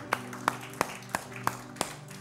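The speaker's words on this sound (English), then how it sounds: "Give the Lord a hand." A church congregation claps in slow, even unison, six crisp hand claps spaced about a third of a second apart, close and clear over a quiet background.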